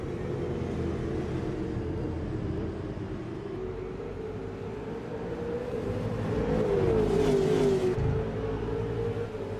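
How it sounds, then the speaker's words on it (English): Several V8 race cars in a sim racing game closing in from behind at Barbagallo, a sustained engine whine that rises and swells louder toward the end, with no talk. "he's got 4 cars screaming up behind him"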